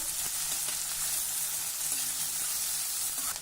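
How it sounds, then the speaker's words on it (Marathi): Sliced onions sautéing in a pan, a steady close sizzle with light scraping taps from stirring. "आता हा कांदा आपण परतून घेऊ"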